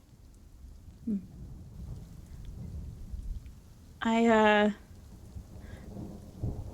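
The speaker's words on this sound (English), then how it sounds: "I like the rain here" Steady rain hiss with low thunder rumbling underneath, a brief voice, and a loud harmonic tone cutting in for under a second.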